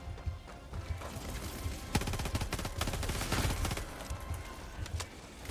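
Rapid gunfire in the video game Helldivers 2, bursts of automatic shots crackling in dense runs over a steady background rumble, fairly faint overall.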